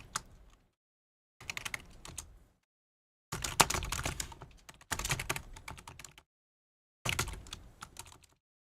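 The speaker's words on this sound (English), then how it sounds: "I misspell Garrison like every other time I type it" Bursts of typing on a computer keyboard, close and clear, arriving in several separate runs of rapid key clicks with short silent gaps between them.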